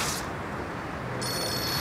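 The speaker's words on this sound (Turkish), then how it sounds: "Ne oldu? Telefon." A telephone rings in a domestic drama scene: a short burst at the start, then a longer steady ring after a pause, heard fairly close against room noise.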